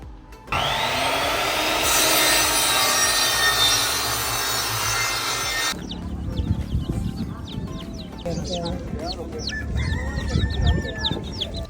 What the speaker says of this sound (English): We got some chickens.